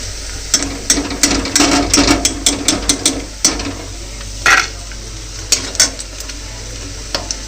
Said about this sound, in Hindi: मैं निकाल रहा हूँ पनीर ला और मटर ला भी फ्राई कर लेता हूँ